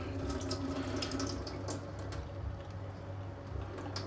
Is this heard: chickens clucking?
no